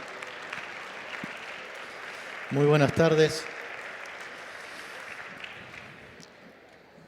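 Audience applause at a congress panel session welcoming a pastor to the podium, a moderate continuous clapping that fades toward the end, interrupted midway by a speaker's loud spoken greeting.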